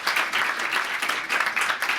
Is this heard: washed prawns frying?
no